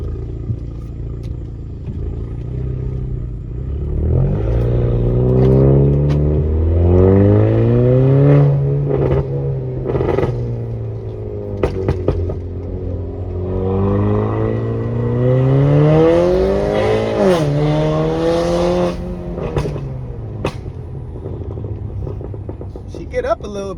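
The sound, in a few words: car accelerating hard with makeshift exhaust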